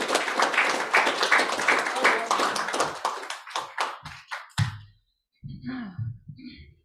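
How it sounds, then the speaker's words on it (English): A church congregation applauds, a dense round of clapping that thins into scattered claps and stops, followed by a brief pause and then a voice speaking. "Would you just give Chris a round of applause?"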